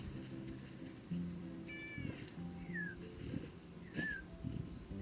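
A cat meows several times in the video game Wytchwood, short rising and falling calls spaced across a few seconds over soft ambient game music.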